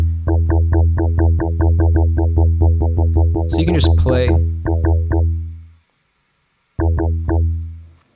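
Bright wavetable synth notes from Ableton Live 11 repeat in a fast, steady pulse, then swoop into a scooping, bending sweep before cutting to silence and resuming with a few more pulses; a voice speaks briefly alongside.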